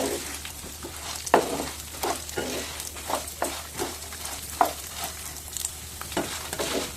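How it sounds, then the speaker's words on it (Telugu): Chana dal and urad dal frying in a pan for pulihora, with repeated scraping stirs and light clinks of a spatula over a soft, steady sizzle, fairly close. "ఇలా అయితే మొత్తం వేయించుకోండి"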